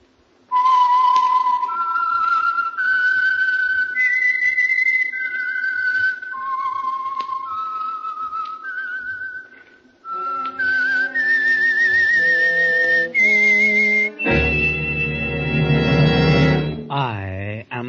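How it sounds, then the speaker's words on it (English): Whistled theme tune identifying the Signal Oil radio program, The Whistler, an old-time radio mystery thriller: a clear solo melody of sustained whistled notes stepping up and down, then swelling into a loud orchestral sting, with no talk. "the signal to listen for is this whistle that identifies the Signal Oil program"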